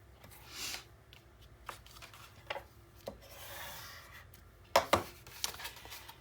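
Blade trimming excess paper off an 8 x 8 enclosed folio, with soft rubbing and shuffling paper sounds close by, then a few sharper snips and rustles near the end.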